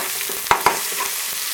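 Tomato paste is stirred into noodles frying in a pan, giving a steady sizzle with two quick, sharp scrapes close together, then softer stirring, with no speech.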